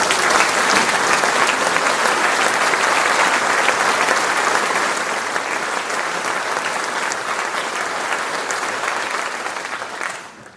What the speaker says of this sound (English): call for another round of applause to the complete class of 2022